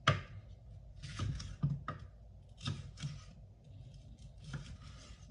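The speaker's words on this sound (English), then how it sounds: "we'll do this into like strips and then we'll cut them up into little cubes" A knife chops food on a cutting board into strips and cubes for smoked BBQ beans, giving a few close, irregular chopping knocks with scraping strokes between them.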